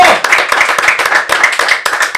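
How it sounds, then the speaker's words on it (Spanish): Small podcast audience clapping hands close to the mic in a quick, irregular burst, loud individual claps with brief gaps between flurries. "quiero que despidamos con un fuerte aplauso a Luis Cueto."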